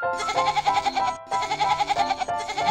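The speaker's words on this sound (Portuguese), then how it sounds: "bode," A goat bleats twice in long, wavering, trembling cries, close and loud, with a short pause between the two calls.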